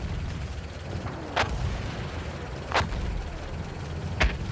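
Enemy artillery barrage firing in the Battlefield 1 video game, three sharp booms spaced about a second and a half apart over a constant rumbling battlefield din.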